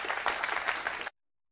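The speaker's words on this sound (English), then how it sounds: "Round of applause, right?" Brief burst of audience applause at a Craftsman 2007 innovations product demonstration, a lively crowd clapping for about a second before cutting off abruptly to silence.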